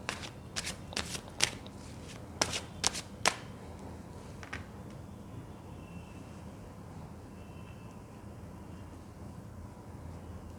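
Tarot cards riffled in a quick burst of sharp shuffles during the first few seconds, alone in a quiet room with a low steady hum afterward.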